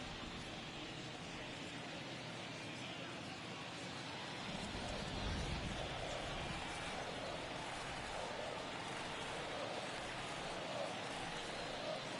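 Rain patters steadily over a baseball video game broadcast, a dense, even hiss that swells slightly about a third of the way in and stays constant, with no clear voices.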